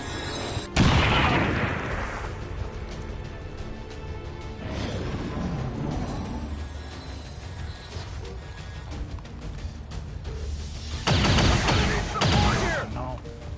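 Grenade explosions in the XCOM 2 video game: a loud, sharp blast near the start, another rumbling burst mid-way and a heavy, drawn-out detonation near the end, over a steady bed of game noise.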